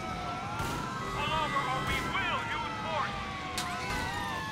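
Several police sirens wail and overlap at a distance in the video game GTA: The Lost and Damned, rising and falling over a rumbling background with a few sharp bangs of gunfire.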